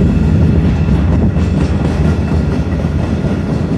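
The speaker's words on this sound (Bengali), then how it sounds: "আর আমাদের ট্রেনটি পদ্মা রেল স্টেশন ছাড়ার পরে তার গতি 30+ রয়েছে" A loaded stone-carrying freight train rolls steadily out of Padma station, a continuous loud rumble of wheels and cars close by with no voices.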